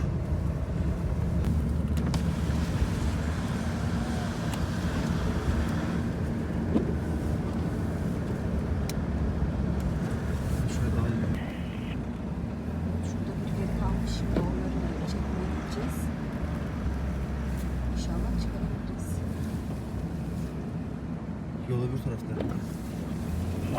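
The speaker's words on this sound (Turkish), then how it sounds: "arabamızı çalıştıralım donmasın" A car engine idles steadily at a snowy storm campsite in bitter cold, a continuous low rumble running throughout while people talk over it.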